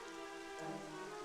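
Steady rain falls in the Dragon Quest XI S: Definitive Edition video game on a mountain climb, a dense continuous patter with no voice over it for the short stretch.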